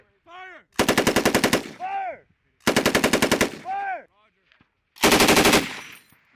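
Machine gun fire during a U.S. Marine drone attack exercise at Camp Pendleton, three loud, close bursts of rapid rhythmic shots, each set between shouted commands.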